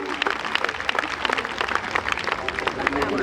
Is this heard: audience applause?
yes